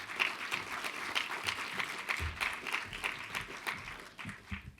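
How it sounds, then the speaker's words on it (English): Audience at an opening session applauds a newly welcomed guest, a crowd of distinct hand claps with audible individual slaps, moderately loud and tapering toward the end. "Please give him a round of applause."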